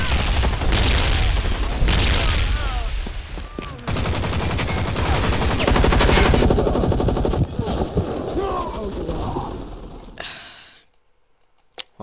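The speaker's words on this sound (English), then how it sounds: "Tossing a frag grenade." A frag grenade explodes amid bursts of gunfire in a video game, loud rapid shots and booms filling most of the stretch before fading out at the end, with a voice reacting over the action.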